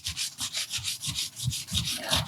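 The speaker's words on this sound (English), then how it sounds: "you're just going to want to start sanding down" Rhythmic back-and-forth sanding strokes on a watch, with the grain, close and brisk, about a dozen rasping passes in quick succession with no voices.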